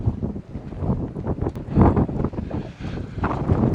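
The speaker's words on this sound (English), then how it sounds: "it's always very windy up here, and mixed with snow" Strong wind buffets the microphone on the Badger Mountain trail in a snowstorm, a loud rumbling, gusting roar with uneven surges throughout and no voices.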